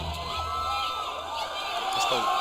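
A WWF wrestling crowd roars and cheers steadily throughout an arena, a loud dense wash of voices with occasional whoops, while a commentator's voice talks over it.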